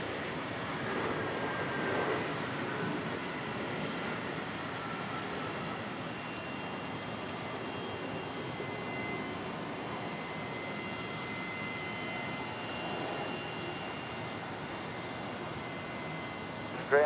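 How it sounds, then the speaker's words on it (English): A Jetstar airliner, flight 824 from Sydney, comes in to land at Brisbane Airport, a continuous jet engine roar holding steady and fairly loud for the whole stretch, with no talk over it. "Now that was Jetstar 824 coming in behind from Sydney."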